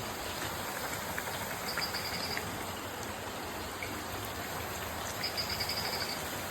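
Steady rain hisses outside with no break, a dense wash of patter broken now and then by faint higher chirps in the background.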